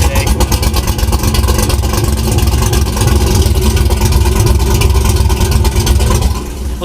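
A 2014-or-newer Chevrolet Silverado pickup engine drones loud and steady while driving, with a deep, rumbling, constant tone and no pauses.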